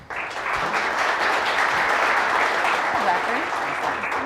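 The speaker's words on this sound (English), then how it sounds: "let's have another round of applause for our final guest, Zachary Allgood" Audience applause at a science education event welcoming a student and his teacher, a dense, steady burst of clapping that swells in quickly and sustains for several seconds, close and full.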